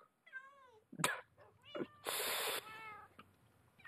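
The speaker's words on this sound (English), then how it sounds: "Come on, you silly cat." A house cat meows repeatedly at close range in a series of drawn-out, wavering cries, with one harsher, noisier yowl in the middle and no talking.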